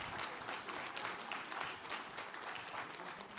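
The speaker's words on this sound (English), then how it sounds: "so let's give him a round of applause." An audience at a federal tax seminar gives a round of applause, a steady wash of many hands clapping, quiet and somewhat distant, with no talking.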